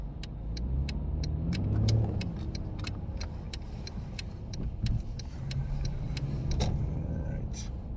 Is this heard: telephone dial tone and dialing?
no